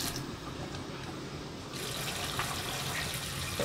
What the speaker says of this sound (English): Put a little more water.